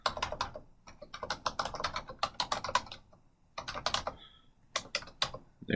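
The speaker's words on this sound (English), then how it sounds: "Or I can simply type in a URL address." Rapid keystrokes on a computer keyboard as a URL is typed, close and crisp in uneven bursts with a few short pauses, no voices.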